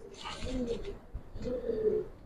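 Giribaz pigeons coo in a loft, two throaty rolling coo phrases separated by a short pause, soft and close.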